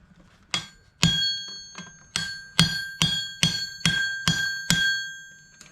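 A blacksmith's hammer strikes hot steel while forging a horseshoe into a heart: about eight ringing metallic blows with bell-like overtones, in an uneven but steady rhythm, each decaying briefly before the next.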